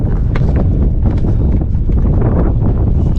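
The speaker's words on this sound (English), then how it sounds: "the wind's starting to pick up here" Strong wind buffets the microphone outdoors beside a camper's dual propane tank cover, a loud, steady rumbling roar with gusty fluctuations throughout.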